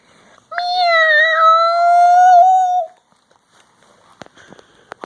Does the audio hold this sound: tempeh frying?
no